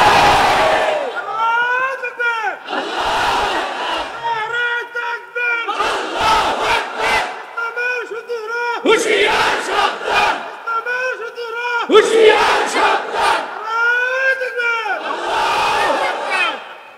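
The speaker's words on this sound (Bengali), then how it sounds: "ইমানদারের হৃদয়ে যতদিন পর্যন্ত ঈমান থাকবে এই বাংলার জমিনে আল্লাহু আকবারের স্লোগান চলতেই থাকবে" A large crowd at a Bangladeshi religious gathering chants the Allahu Akbar slogan in loud, rhythmic bursts, call and response repeating about every few seconds with brief pauses between.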